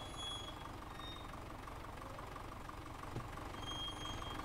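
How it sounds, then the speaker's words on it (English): Small blue tractor with a 50-horsepower-class engine in Farming Simulator 17, idling with a steady low knocking rumble, moderately loud and alone with no talk. "This little blue tractor, this thing gets abused."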